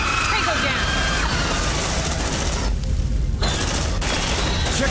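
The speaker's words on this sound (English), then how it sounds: "Shotgun action." Heavy shotgun blasts and chaotic gunfire in the squad combat game Aliens: Dark Descent, loud and continuous with booming bursts, while voices shout over the battle.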